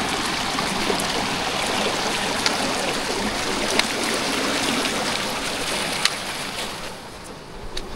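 A mountain river with slightly sulfurous water on the Torean route of Mount Rinjani rushes steadily and close by, a dense, continuous roar of flowing water with no voices.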